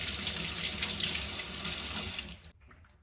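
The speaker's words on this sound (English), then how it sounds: "I'll add some cold water." Tap water runs steadily into a sink to cool down an overly hot mixture, a loud continuous splashing stream that stops abruptly near the end, leaving quiet room tone.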